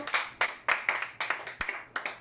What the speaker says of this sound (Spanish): Denle un aplauso a mi Señor Jesucristo